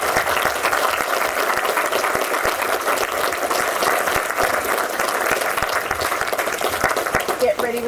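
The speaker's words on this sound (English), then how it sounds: "Give them a round of applause." Wedding guests applaud a couple right after their vows, with sustained, dense clapping throughout and some cheering and voices mixed in.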